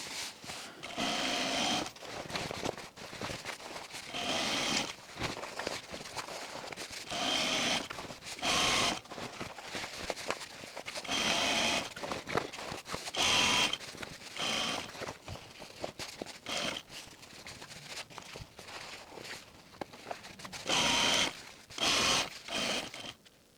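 A sewing machine stitches a Marston rain coat jacket in repeated bursts of fast mechanical whirring, each run stopping and starting again, close and clear with quiet gaps between.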